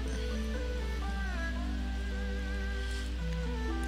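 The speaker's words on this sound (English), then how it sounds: "of course it would be raining when this event is outside" Steady rain patters down at an outdoor festival in The Sims 4, a soft constant hiss under tonal game music, with no voices.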